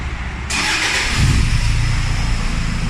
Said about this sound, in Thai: สตาร์ทรถครับ